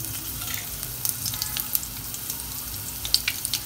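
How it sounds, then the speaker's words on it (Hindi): Mustard seeds and finely chopped green chillies fry in hot oil over a low gas flame, a constant close sizzle broken by sharp crackles and pops as the seeds spit. "तेल गर्म हो चुका है, अभी मैं इसमें राई डाल रही हूँ, मस्टर्ड सीड।"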